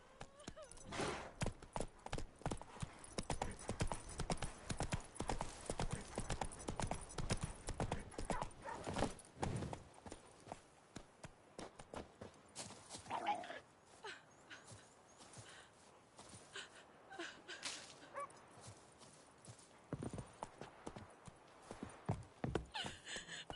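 Hooves clip-clop rhythmically as a horse gallops in The Witcher III: Wild Hunt, loud and steady at first and then easing into a looser gait, with a brief whinny and voices speaking over parts of it.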